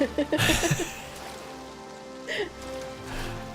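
Rain falling in the video game Oblivion Remastered, a steady soft hiss throughout with bursts of splashing and watery movement, while people talk over it in places.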